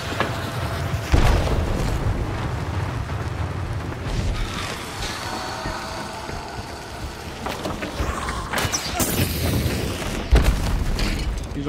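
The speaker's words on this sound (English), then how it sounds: "someone throw an explosive" Explosions and chaotic combat in an online shooter game, with loud booming bursts and crackling hits over continuous game noise, several sharp blasts standing out near the start and toward the end.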